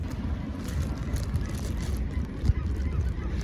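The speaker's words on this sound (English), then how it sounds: "Holy smokes, Les, look at the birds" A flock of birds, likely geese, honks and calls steadily in a park, their loud layered cries running throughout with a brief louder thump partway.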